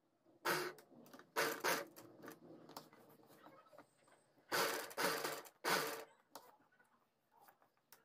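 A household sewing machine stitches an embroidery design onto a sleeve in short, quiet bursts of rapid whirring, separated by brief pauses and soft handling noises.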